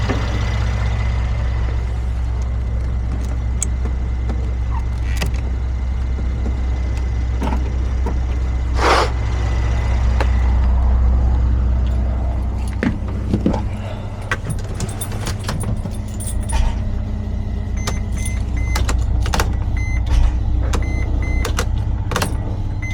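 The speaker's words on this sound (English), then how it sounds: "Don't mind my wastegate rattle." A Mercedes Sprinter van's 3.0L V6 OM642 diesel idles with a steady low drone while a loose turbo wastegate rattles along with it, joined by intermittent sharp clicks and clatters and a brief louder surge near the middle.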